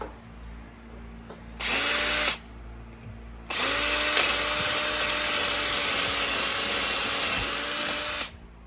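A power drill whines loudly in two bursts, a short one then a long steady run, its lubricated bit grinding through metal with a high-pitched rising tone, during automotive thread repair.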